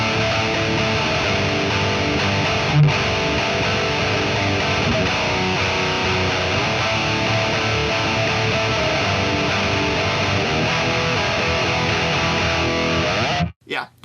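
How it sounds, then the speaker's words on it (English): Electric guitar played through an Orange Rockerverb high-gain amp simulation, a thick, saturated distorted tone sustained steadily for most of the stretch before cutting off near the end. "this is an orange rock reverb, so again, known as like a high gain amplifier"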